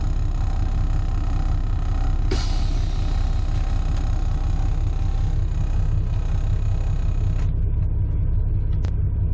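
A truck engine idling with the engine on during a pre-trip air brake leak test, a steady, close diesel rumble with a short sharp hiss of air partway through and another faint click near the end.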